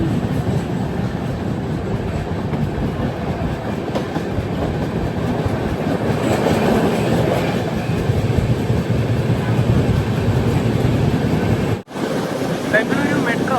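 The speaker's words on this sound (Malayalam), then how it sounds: "ട്രെയിൻ ഇപ്പോൾ 120 km/h സ്പീഡിലാണ് പോകുന്നത്." The Sanghamitra Express sleeper train from Bengaluru runs on rails at about 120 km/h, with a loud, steady rumble and rhythmic clickety-clack heard from inside the coach and a brief dropout near the end.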